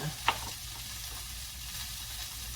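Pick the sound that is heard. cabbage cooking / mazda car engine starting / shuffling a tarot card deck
cabbage cooking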